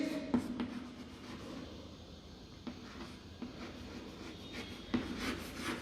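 A teacher writes a heading on a classroom board for a chemistry lesson: steady scratchy strokes with occasional sharper taps, close and alone with no talking.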